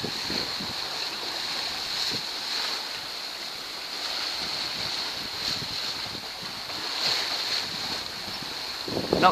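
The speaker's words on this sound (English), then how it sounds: "which gives a good indication of how the boat's behaving relative to the bearing away and luffing up under the Spinaker." A sailboat running under spinnaker at sea with a Neptune windvane steering: steady wind buffeting and water rushing along the hull, waves sloshing in irregular surges, a thin constant tone above, no talking.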